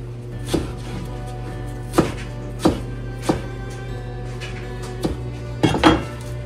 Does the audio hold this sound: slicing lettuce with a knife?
yes